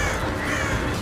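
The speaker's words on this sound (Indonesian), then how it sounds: "jimat yang Xiao Huan miliki diambil oleh gagak itu" A crow caws harshly and close in a Chinese animated series, one loud rasping call filling the whole short moment.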